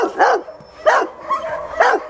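West Siberian Laika hunting dogs at a kennel used for moose hunting bark three times in a steady rhythm, fairly close and loud, with a softer yelp between the second and third barks.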